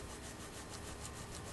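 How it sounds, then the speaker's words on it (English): Someone vigorously rubs and cleans a felt piano hammer, producing faint, steady back-and-forth scrubbing strokes in a quick, even rhythm, with no voices. "You put the hammer down and hold on to it and give it a good rigorous going over."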